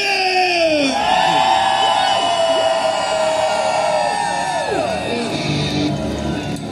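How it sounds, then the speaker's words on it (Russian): A huge crowd of around five hundred musicians at a rock flash-mob event shouts together in one loud, sustained roar of raised voices, with whoops and yells rising and falling across the whole stretch. "хотелось бы услышать, друзья, крик пяти сотен музыкантов"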